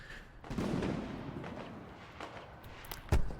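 Fireworks in a video game go off next to a shop: a muffled boom near the start, a few scattered crackles and pops, then a sharp close bang near the end.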